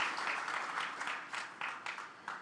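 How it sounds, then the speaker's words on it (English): An audience at a career fair at the Islamic University in Uganda applauds the panelists, a short burst of clapping that is fairly faint and distant and fades unevenly. "join me in giving them a thunderous hand clap for the submissions"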